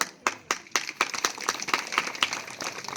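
An audience applauds at a public speech in Katol, Wandli, with a steady run of hand claps that repeatedly rises and settles, fairly close and fairly loud, with no talking over it.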